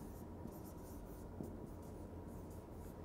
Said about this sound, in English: Let's say I write Patna.